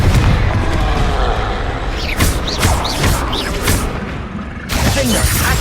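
Confringo, an explosion spell in the video game Hogwarts Legacy, goes off in loud shattering blasts, several bursts in quick succession over game noise, with a final crash near the end.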